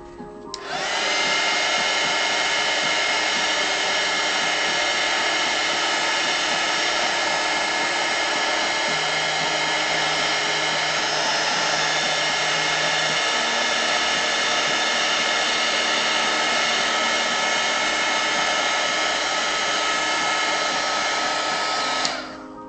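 Hair dryer blowing on fabric paint on a hand-painted Pokemon birthday shirt, one loud steady whine running for about twenty seconds with a slight pitch shift midway, no talk.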